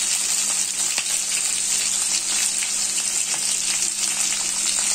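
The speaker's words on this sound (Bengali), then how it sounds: "পেঁয়াজটার সাথে আলুটা ভালো করে ভেজে নেব।" Onion and potato fry together in a pan for a Bengali side dish, with a strong, continuous hiss and crackle close by and a few faint stirring scrapes.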